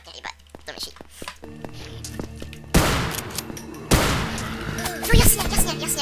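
Shotgun blasts at close range in the horror game Afraid of Monsters, two loud sharp booms a second apart standing out over scattered game noises and background clatter.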